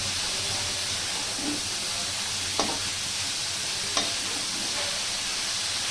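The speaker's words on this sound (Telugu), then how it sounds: "ఆనియన్స్ తొందరగా వేగాలంటే కొద్దిగా సాల్ట్ వేసుకోవాలండి. ఇలా సాల్ట్ వేసుకుంటే తొందరగా వేగుతాయి." Onions frying with a little salt in a pan for chicken curry, a steady soft sizzle and hiss with a couple of brief stirring clinks, no voices.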